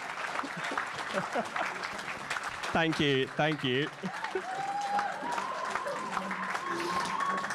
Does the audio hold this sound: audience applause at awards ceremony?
yes